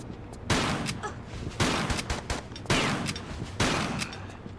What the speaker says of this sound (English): So I'm going to use the shotgun.